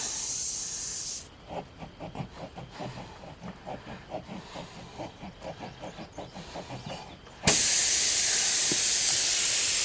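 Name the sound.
air hissing out of a mower's tubeless tire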